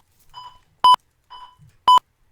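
Two cycles of a short soft tone followed by a louder sharp electronic beep, evenly spaced like a countdown.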